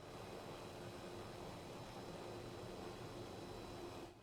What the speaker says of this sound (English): Flying in, hoping the helicopter doesn't get shot down too much.